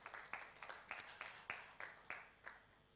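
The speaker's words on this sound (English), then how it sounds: "Please, let's give him another round of applause." A sparse round of applause at a book launch forum, with distinct, evenly spaced claps, about three per second, sounding thin and somewhat distant in a reverberant room.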